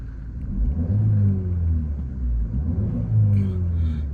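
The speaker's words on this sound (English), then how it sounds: "give it a quick rev for you to listen to." A 2011 Ford Focus engine revs up and back down in a quick smooth swell over its low rumble, heard close and loud with no talking.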